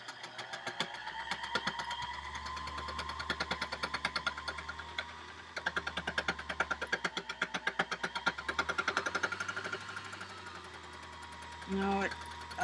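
An embellishing machine runs across a piece of fuzzy fabric, its needles punching out a rapid, steady mechanical chatter with faint uneven pulses, ending in a brief louder bump near the end.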